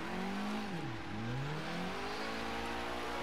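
A Nissan S13 car in Forza Horizon 3 revs hard in second gear, its engine tone sweeping up and down and then holding a steady loud drone throughout.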